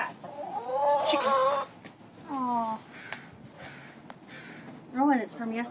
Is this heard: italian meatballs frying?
no